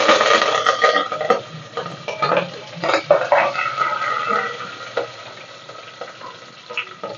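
Dried red chillies and curry leaves hit hot oil for a bele rice bath, giving a loud, busy sizzle with sharp crackling bursts that rise and ease over several seconds, close up and without voices.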